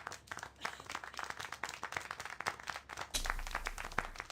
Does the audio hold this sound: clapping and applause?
yes